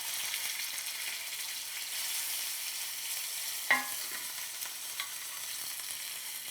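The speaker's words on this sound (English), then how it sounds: "we're going to sear the steak and cook it all the way through. Oil in the pan is super hot." Steak searing in super hot oil in a pan, a steady close hiss of frying that runs throughout, with a sharp pop or clatter near the middle and a couple of softer ticks later.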